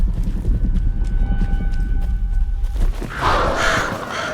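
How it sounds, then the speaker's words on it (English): Crows in the video game Alan Wake 2 break into a burst of harsh, overlapping cawing partway through, rising over a low, rumbling ambient drone with a faint steady hum. "Oh no, not birds again."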